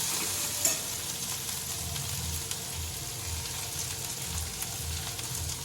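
Tomatoes tossed into a hot pan with capsicum, ginger and chilli for a frankie filling sizzle and fry steadily while being stirred, a continuous close crackle with soft scraping strokes and no talking.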